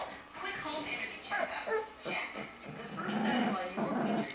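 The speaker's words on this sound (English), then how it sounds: "Oh, somebody's growling now." A dog growls in low, uneven bursts, mixed with soft whimpers and yips, while a person talks close by.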